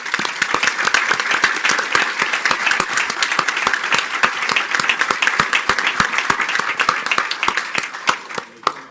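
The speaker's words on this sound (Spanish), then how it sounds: "en memoria de Sabat, que falleció hace 2 semanas atrás, un aplauso para..." An audience applauds in memory of Sabat, a caricaturist, at a panel on investigative journalism against corruption: dense, loud, sustained clapping from a large crowd that holds steady for nearly nine seconds before thinning at the end.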